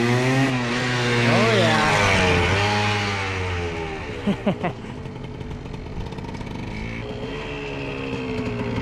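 A Subaru Legacy GT, just back from having a cracked downpipe welded, revs loudly nearby with rising and falling pitch, then pulls away and fades into the distance while people talk briefly.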